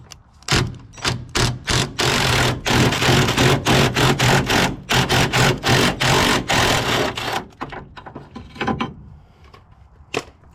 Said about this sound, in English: it seems like it might work using my Craftsman 1/2" drive impact